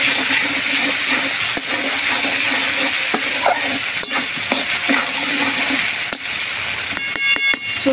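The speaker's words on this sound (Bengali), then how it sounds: "সর্ষেটা দিয়ে একটু নেড়ে নিচ্ছি।" Loud, close sizzling as mustard paste is stirred into frying spices in a pan for a shapla flower dish, with scraping spoon strokes over a continuous hiss.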